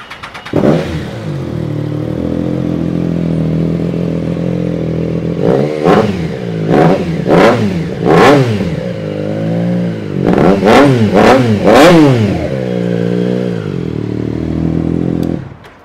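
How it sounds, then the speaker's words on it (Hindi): A Triumph Trident 660 three-cylinder motorcycle engine idles close by, then blips through a series of sharp, snarling revs in two clusters, with no talking. "आवाज़ ट्रायम्फ है, 3 सिलेंडर तो सुनना तो बनता ही है।"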